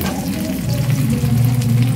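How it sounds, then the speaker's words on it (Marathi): Bombil fish bhaji frying in hot oil in a Koliwada kitchen, a steady, close, loud sizzle with soft bubbling crackle throughout, no voices. "आता हे आपण दुसऱ्या साईडनं पण फ्राय करूया"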